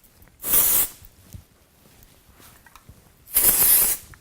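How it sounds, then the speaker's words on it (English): Two short hissing bursts of aerosol volumizing powder sprayed onto hair roots, about three seconds apart, close and fairly loud with quiet pauses between. "So it's quite noisy, which you will hear in a second. So I'm just spraying this"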